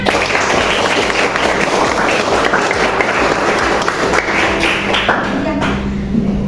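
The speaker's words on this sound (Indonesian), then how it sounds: "Kasih tepuk tangan." Students in a classroom clap their hands in sustained, dense applause that stays loud and even throughout before fading slightly at the end.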